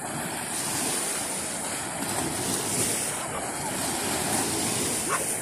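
Ocean waves wash steadily onto a dog beach, a continuous broad surf roar mixed with wind buffeting the microphone, with faint voices underneath.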